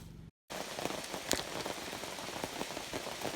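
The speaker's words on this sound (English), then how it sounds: "This rain is relentless," Heavy, relentless rain falls on a muddy off-grid building site with wood-chip ground, a dense continuous patter of drops broken by a short silent gap near the start.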